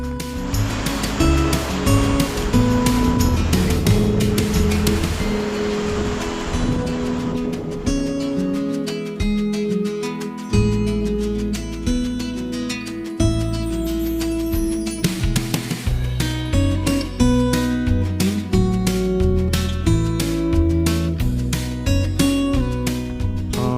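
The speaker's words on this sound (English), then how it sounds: "in a moment we'll be crossing Mono Creek" Mono Creek rushes along the John Muir Trail in a steady, loud, continuous wash of water, with dense tonal layers mixed over it throughout.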